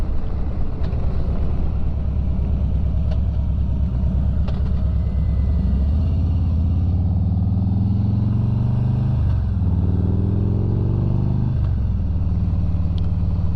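A 2020 Harley-Davidson Road King with a Thunder Max auto tuner and modified stock exhaust rumbles loudly and close on a cold, windy ride, its low engine note rising and falling through several throttle changes.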